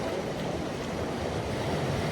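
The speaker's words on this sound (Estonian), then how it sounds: "Sealt tuleb täiega vett ja" Water rushes in to fill a pool at Broome's Krokupark, a dense, loud, continuous wash of churning water with no breaks or voices.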